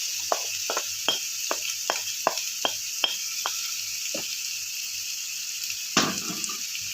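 Lemongrass, ground pepper and onion sautéing in a pan for broccoli soup make a soft, steady sizzle, punctuated by a regular series of sharp utensil taps and scrapes, then a louder stir near the end.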